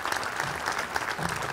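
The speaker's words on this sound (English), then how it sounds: "Let's give Gene another round of applause" Steady applause from an audience at an Ohio State press event, a dense even patter of clapping that holds throughout without a break.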